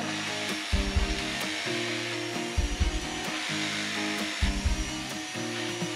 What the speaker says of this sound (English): So now I'm going to take the clippers